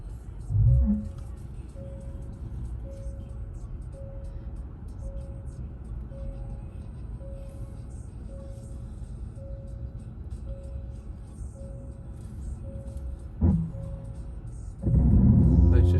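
A Kia EV6 electric car reverse parks itself while a steady, evenly spaced electronic beep repeats over a faint hum, with a louder rumble near the end.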